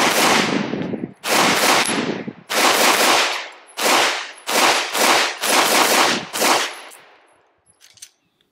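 Rapid strings of shots from a Springfield Hellcat Pro pistol fitted with a Strike Industries compensator, fired in about seven fast bursts close to the microphone, each a dense crackle of reports with short pauses between magazines.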